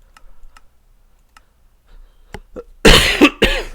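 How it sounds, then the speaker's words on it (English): A sharp cough bursts out near the end, preceded by faint ticking and a soft throat sound in an otherwise quiet room. "Excuse me there as I cough."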